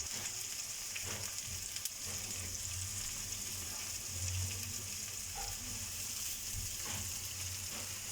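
Golden onions with cumin frying in a pan give a soft, continuous sizzle and crackle with occasional faint stirring clinks, quiet and steady throughout.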